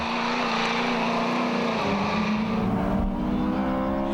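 A Ford XP Falcon V8 rally car, once a taxi, roars past at tarmac-rally pace, the loud engine note sliding lower as it passes and fades.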